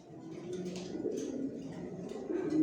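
Racing pigeons in a loft give soft, low, rolling coos that overlap continuously, close by and fairly quiet, with faint higher chirps scattered through.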